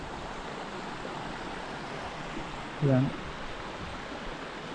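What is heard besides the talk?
small stream flowing, Panayam river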